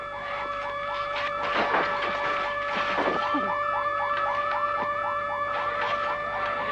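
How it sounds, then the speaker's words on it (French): An alarm blaring with a fast repeating rising whoop, steady and moderately loud, with scattered clatter and rustling underneath. "L'alarme est déclenchée."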